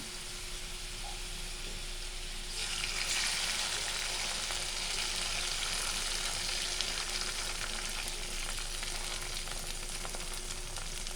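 Beaten egg poured over cooked french fries in a pan sets off a sudden, steady sizzle that holds close and loud, with no talking.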